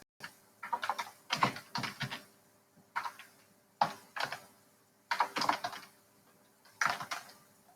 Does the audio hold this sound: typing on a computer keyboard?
yes